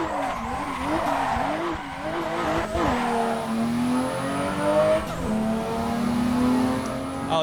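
A video game race car roars loudly as its engine revs up and down, with squealing tires and skidding, the pitch climbing through gear shifts over a steady background.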